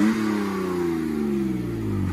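BMW E30 325i six-cylinder engine revving loudly through an exhaust flap, a continuous close roar with falling harmonics as the revs drop, steady and without speech.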